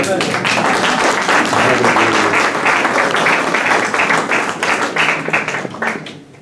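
A church congregation applauding, with dense rapid clapping and raised cheering voices that hold steady for several seconds and then fade out.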